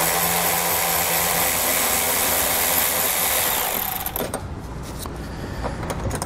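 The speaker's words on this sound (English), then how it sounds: "I'm going to grab a T40 Torx bit, and I'm going to pull the tie-down hook out." A power tool whirs loudly and steadily as it drives a T40 Torx bit to remove a tie-down hook on a 2018 Mercedes-Benz, then the whine drops away into lower, uneven mechanical rattling near the end.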